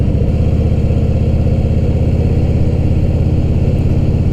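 Motorcycle engine heard close and loud while riding through a quiet neighborhood, a steady throbbing drone that holds an even pitch throughout.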